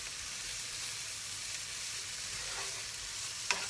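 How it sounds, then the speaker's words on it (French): Mushrooms with salt and plenty of parsley sizzle in a frying pan, a soft constant frying hiss with faint stirring and a single sharp utensil tap at the end. "Je mets un petit peu de persil dessus, même beaucoup. Et je remue."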